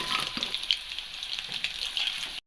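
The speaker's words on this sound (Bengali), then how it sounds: "এইভাবে চিকেনটাকে লাল লাল করে আমরা ফ্রাই করে নিলাম।" Chicken frying in oil until reddish-brown, a close, continuous crackling sizzle with small bursts, cutting off abruptly at the end.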